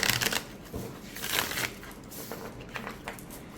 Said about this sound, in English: Shuffling is just fine with this deck.